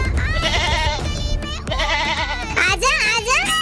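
A goat bleats loudly and close in wavering, quavering cries, mixed with excited children's voices talking over the calls.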